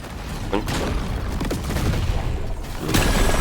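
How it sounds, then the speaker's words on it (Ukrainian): Dense, continuous barrage of gunfire and muffled blasts from the video game Deep Rock Galactic Survivor, with a loud burst near the end standing out from the steady rapid firing. "Щось десь якось вибухнуло, але поганенько"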